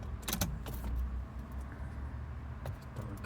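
A car being started: keys jangle and several clicks and knocks sound close by over a steady low engine rumble that runs throughout.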